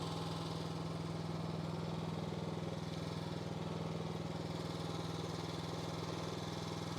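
A mini excavator's engine runs at a steady idle, a constant low droning rumble with a faint rattle, moderately close and unchanging throughout, with no talking.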